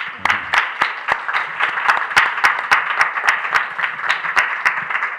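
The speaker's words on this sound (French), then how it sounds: "Je vous applaudis." Applause from a lecture audience for a translator after a talk on Rousseau: sharp, separate claps at a brisk, fairly even rhythm, moderately loud, with no other voices.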